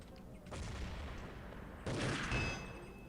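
A grenade blast in a competitive team shooter match, landing as two muffled booming bursts with a rumbling tail, the second louder, against quiet game ambience.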